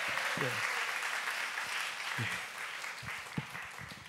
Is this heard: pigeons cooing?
no